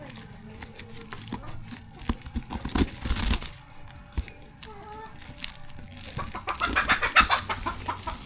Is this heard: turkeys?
yes